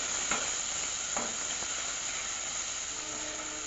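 Green chili and ground garlic sizzle in a pan over a low gas flame, a constant close frying hiss broken by a few soft stirring scrapes and taps.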